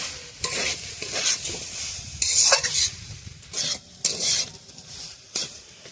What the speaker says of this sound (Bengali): দিয়ে দিলাম চিংড়ি মাছ আর একটু চাড়া দিয়ে ভেজে নিয়ে